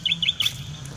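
Young racing pigeons about two months old, out on a training flight, give a few quick, high chirping calls close together, then fall quiet.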